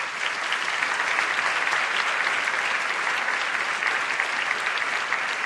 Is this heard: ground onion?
no